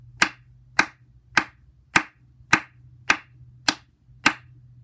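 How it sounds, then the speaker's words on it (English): Eight sharp hand claps in a body percussion lesson, evenly spaced and crisp, each standing alone against a quiet background with a faint hum. "this time, eight claps, but I'm going to go even faster"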